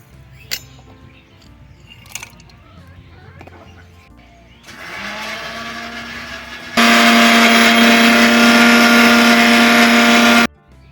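Blender grinding melon seeds, poppy seeds and cashews into a paste, a loud steady motor whine for about six seconds after a quieter spin-up, with faint kitchen clinks before it.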